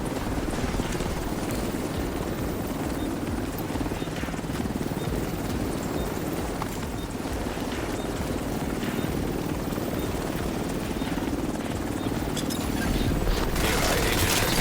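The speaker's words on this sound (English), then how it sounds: "Helo arrived." A helicopter arrives in The Division 2, its loud, steady rotor roar filling the scene from start to finish, with scattered gunfire and game voices mixed beneath it.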